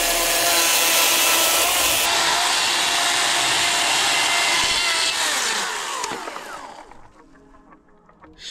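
Loud buzzing of a chainsaw shaving wood for a cabin gate, holding steady, then winding down and fading near the end, close by.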